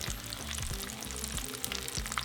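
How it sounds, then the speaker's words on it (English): Hot oil drips and sizzles as a fried cheese flauta is lifted from the frying oil, giving a continuous crackling patter with a low, pulsing undertone. "Drain that excess oil."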